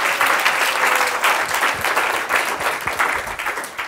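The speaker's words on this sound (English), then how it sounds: "let's give another clap for the great massages" Conference audience applauding steadily and close up, a dense even clatter of many hands filling the whole stretch.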